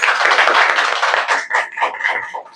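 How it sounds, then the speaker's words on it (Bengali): An audience at a Glamour Galaxy models' event in Kolkata claps loudly, first a thick continuous burst of many hands, then breaking into a few separate swells of applause that fade out. "জোরে হাততালি।"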